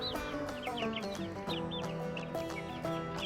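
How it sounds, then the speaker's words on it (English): Young Easter Egger chicks in a brooder give repeated thin, high peeps in quick succession, near and insistent, over a constant low hum with no speech. "What are you whining about, Puppy?"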